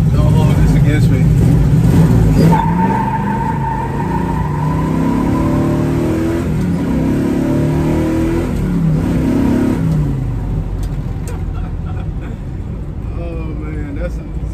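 A 1967 first-generation Camaro with a 454 engine and a 4-speed manual accelerates hard from inside the car, the loud engine roar climbing in pitch through several gears with brief drops at each shift.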